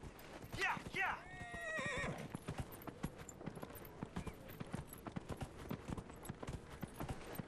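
Horse hooves clip-clopping and a whinny in a fantasy action role-playing video game, with a couple of close neighs near the start followed by steady hoofbeats and game ambience, and a voice talking briefly over it.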